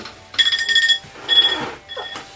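A kitchen timer alarm goes off in bright, rapid beeping bursts, two longer runs and a shorter one, fairly loud in a quiet home.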